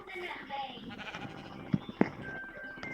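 A sheep bleats in a video game, thin and short, mixed into game sounds with people talking over it.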